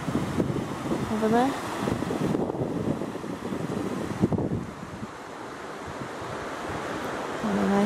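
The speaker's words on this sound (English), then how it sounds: "we've got a little bit of white water rapids" White water rapids on the River Allen churn steadily outdoors after rain in a broad, noisy wash, with wind buffeting the microphone and someone speaking briefly over it.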